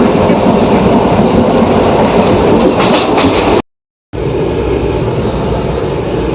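A loud, steady rumble of a train running past at close range, with a brief cut of silence partway through.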